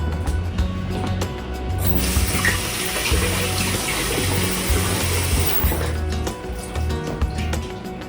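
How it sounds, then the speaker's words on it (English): Water runs steadily from a tap for about four seconds as canning jars are filled, loud and close, with clinks and handling noises before and after the pour. "I'm gonna fill them up with water."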